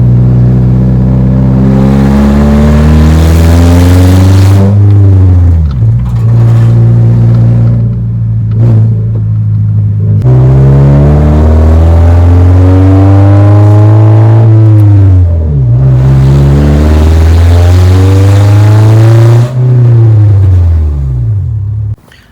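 Scion xB with a hood exit exhaust revving hard, loud rising and falling engine pulls repeated several times, close and raw with brief drops between revs and no talking.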